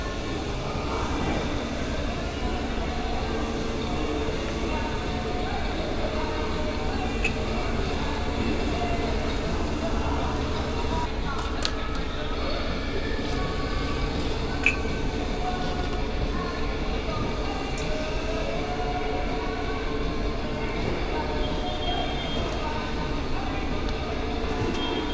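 A Karcher 75/40B sweeper runs continuously with a steady, rumbling mechanical drone at constant loudness, with a few faint knocks along the way.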